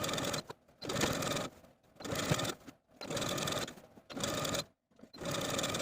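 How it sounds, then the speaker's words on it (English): A sewing machine edge stitches a double-folded quarter-inch shirt hem close to the inner fold, running in four steady bursts of stitching separated by short pauses, close and fairly loud with no talking. "I'm going to edge stitch close to this inner fold all the way around"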